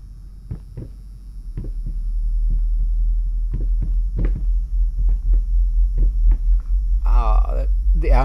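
Steady low ambient hum fills a dark basement scene in the Layers of Fear horror game, with scattered soft thumps and knocks over the drone and a brief warbling tone near the end.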